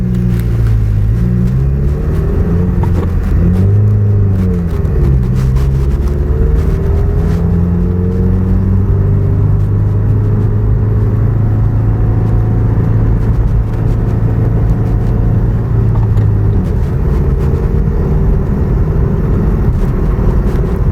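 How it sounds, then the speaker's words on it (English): A 2017 Subaru WRX on a test drive gives a steady, loud engine drone with low rumble and shifting revs throughout, with no talking. "Let's take it for a test drive and see what it's going to do."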